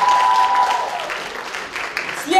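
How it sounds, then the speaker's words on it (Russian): A pageant audience applauds after a contestant's quiz answers, a loud wash of clapping with a brief musical tone at the start and faint voices mixed in, fading slightly before swelling again at the end. "Аплодисменты."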